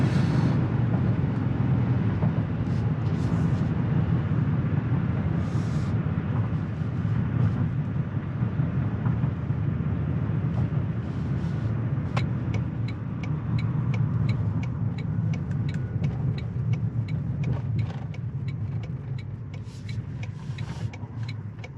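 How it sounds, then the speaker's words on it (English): A Toyota Tundra Hybrid pickup accelerates hard from inside the cab, its engine drone steady and loud, rising through gears before a downshift, with no voices. "Let's get another acceleration going. Let's see how the transmission responds. Downshift."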